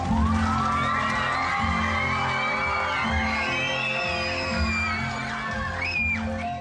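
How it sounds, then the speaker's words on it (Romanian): A large audience of hundreds, many of them children, cheers, whoops and applauds at the opening of the Toamnă la Voroneț film festival. The crowd noise is loud and sustained, with raised voices over a steady wash of clapping. "În aplauze, așa a debutat festivalul de film Toamnă la Voroneț"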